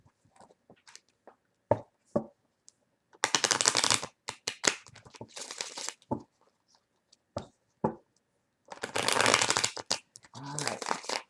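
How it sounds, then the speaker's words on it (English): Tarot cards are dealt and laid down one by one, with short papery slaps and slides separated by pauses and a few longer bursts of shuffling-like riffling, close and clear in a quiet room. "We're going to go ahead and lay down 9 cards."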